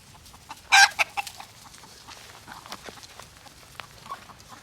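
A hen clucking nearby, with one loud sharp squawk near the start followed by a few shorter clucks, then quieter scattered clucking against soft background noise.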